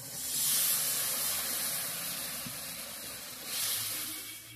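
Water poured into a hot pan of red chili powder and spices for duck egg curry: a broad, hissing sizzle that swells at the start, fades slightly, then swells again, with no voices.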